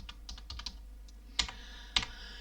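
Quick, light keystrokes on a computer keyboard while writing a bulleted list in a word processor, a scattered run of soft taps followed by two sharper, heavier presses, close and quiet.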